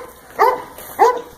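A dog barks twice, two short close yaps spaced about half a second apart, clear against a quiet background.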